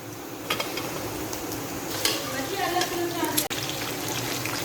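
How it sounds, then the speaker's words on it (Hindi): Chicken pieces frying with softened, lightly cooked onions in a pot for white yakhni pulao, a steady close sizzle with scattered spoon scrapes and clinks throughout. "अब हम 5 से 6 मिनट अच्छे से फ्राई कर लेते हैं चिकन को।"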